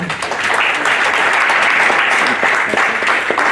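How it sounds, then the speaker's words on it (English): Audience applause fills a blockchain conference hall at the International Blockchain Congress 2018, a dense, steady wash of many hands clapping at close range, sustained and loud throughout with no speech over it. "Let's start by giving Melinda a round of applause for putting this together."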